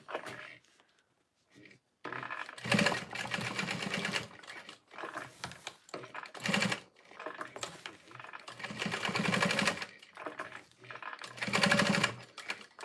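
A sewing machine box-stitches a tote bag in bursts of fast, steady running, with short pauses between runs, loud and close.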